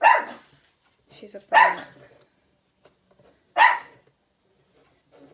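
A small female dog barks in a few sharp, close yaps separated by pauses, loud in a quiet indoor room, with someone speaking briefly between them.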